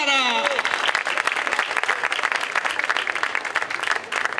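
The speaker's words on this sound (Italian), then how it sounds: "Un applauso alla nostra Chiara!" A live audience at a comedy festival in Lamezia applauds contestant Chiara, steady dense clapping from a crowd that carries on throughout after a host's voice briefly rings out at the start.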